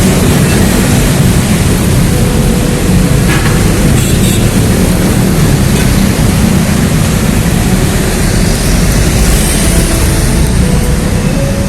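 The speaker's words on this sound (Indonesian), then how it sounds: "Kalian bisa lihat di sana ada MRT di atas." A metro train on an elevated MRT track overhead in the Blok M area, a loud continuous low rumble and roar filling the whole stretch with no talk.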